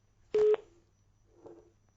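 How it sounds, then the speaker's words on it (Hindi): A phone line drops during a Hindi call-in news show, giving one short, loud disconnect tone burst followed by a faint, murmuring sound and low background hum. "फोन लाइन डिस्कनेक्ट हो गई"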